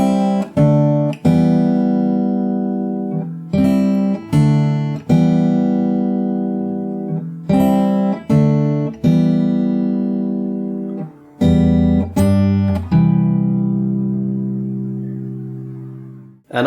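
Fingerstyle guitar plays the intro of a song, with rhythmic plucked bass notes and chords in a repeating pattern, ending on a longer ringing chord. The playing is close and alone.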